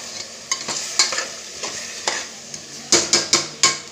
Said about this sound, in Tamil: பச்சை மிளகாவும் பெப்பரும் தான் காரமே நல்லா பிரட்டிக்கணும் நல்லா இப்படி வேகட்டும்